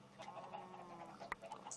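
Chickens clucking in a video game, a few soft bird clucks and one sharp click amid a faint low game hum, quiet and close.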